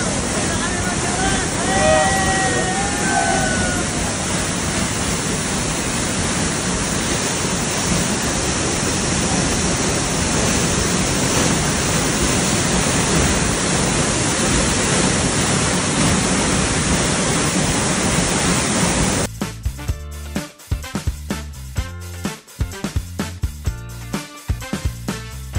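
Lobas Falls, a waterfall on a mountain trail to Mount Talinis, gives off a steady broadband roar of falling water heard close and loud, with a brief voice near the start before the sound breaks into choppy handling noise.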